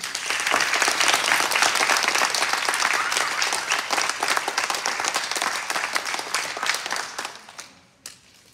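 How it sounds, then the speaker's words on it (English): An audience applauds graduates at a Charter College graduation ceremony in Canyon Country, a loud, dense wash of clapping that holds steady for several seconds and then thins out and fades near the end. "can we give them a round of applause, please?"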